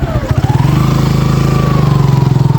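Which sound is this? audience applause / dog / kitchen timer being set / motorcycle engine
motorcycle engine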